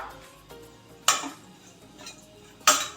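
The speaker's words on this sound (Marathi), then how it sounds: "तर याच्यामध्ये आपण हे खोबरं जे आहे थोडंसं भाजून घेणार आहोत।" Grated coconut is roasted in ghee in a pan, with two sharp metal clinks of a utensil against the pan and soft scraping and stirring between them.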